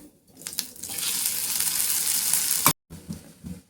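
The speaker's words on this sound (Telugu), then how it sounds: "ఇది మంచిగా వేగిపోతే ఇంకా ఇప్పుడు ఈ కొబ్బరిని కూడా వేసుకోవడమే" Grated coconut hitting a hot oiled pan for Andhra-style kobbari karam: a loud, steady sizzle for about two seconds, cut off abruptly, then a few quieter stirring scrapes.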